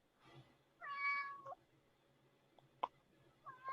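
A house cat meows several times, close and fairly soft, with short calls separated by quiet gaps and a small click in between.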